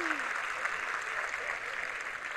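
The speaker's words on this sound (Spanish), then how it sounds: "Chicos, no es necesario que aplaudan por lástima." Audience applause at a live-streamed presentation event: a steady, dense wash of many hands clapping that holds at an even level throughout.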